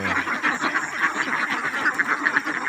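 Ducks on a duck farm quack continuously in a dense, overlapping chorus, loud and nearby, with rapid repeated calls throughout and no talking.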